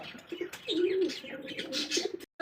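A pair of light-coloured pigeons gives soft, nearby cooing calls, a few rolling coos with light chirps between them, in an otherwise quiet setting.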